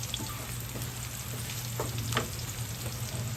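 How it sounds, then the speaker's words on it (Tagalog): Aromatics sautéing in a hot pan, a steady close sizzle broken by several brief scraping strokes of a utensil, with a low hum underneath and no voices. "kailangan kasi igisa siya ng bongga, guys"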